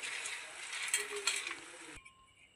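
Soft sizzling and scraping as a coconut burfi mixture with ghee is stirred in a pan, faint and steady for two seconds before cutting off abruptly to near silence.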